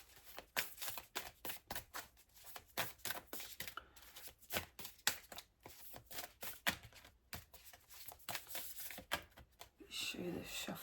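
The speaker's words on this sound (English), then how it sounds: "Show you the shuffling that's going on here." Oracle deck cards shuffled by hand in quick bursts of crisp riffling and flicking, close and fairly quiet, with brief pauses between passes.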